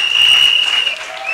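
An audience at an investiture ceremony for women messengers of President Laurent Gbagbo claps loudly right after a name is called. The dense, sustained applause runs throughout and eases slightly near the end.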